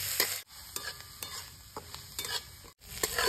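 Chopped onions fry over medium heat with cumin and green chillies, a soft sizzle under repeated close clatters and scrapes of a spoon stirring in the pan.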